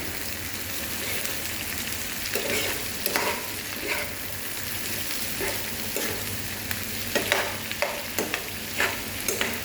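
Vegetables with bitter gourd stirred in a hot pan outdoors in a desert setting for a Nepalese-style dish, a constant close sizzle with intermittent scraping spoon strokes and clatters, no talking.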